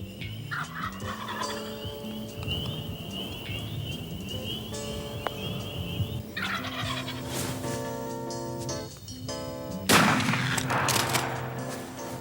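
Wild turkeys in Michigan gobble again and again in loud, rattling bursts, with a sharp crack like a gunshot near the end.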